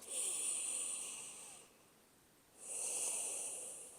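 Slow, deep yoga breathing: a long airy inhale lasting over a second, a brief quiet pause, then another breath rising again, close and soft with a faint hiss.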